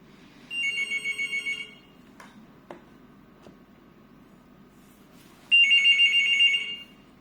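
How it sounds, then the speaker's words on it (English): A wired landline telephone, ECG-124, with its ringer on high, trills in two bursts separated by a pause with a few faint clicks, loud and close. "This high ringer. Take low."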